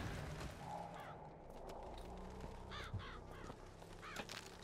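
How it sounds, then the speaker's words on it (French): Several crows cawing in a video game set in a decaying floating city, harsh repeated caws spread across the clip over a dense, rumbling ambient background. "Pourquoi il y a plein de corbeaux là?"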